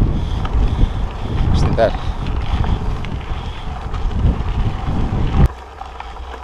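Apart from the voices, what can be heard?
strong wind while cycling up Serra da Estrela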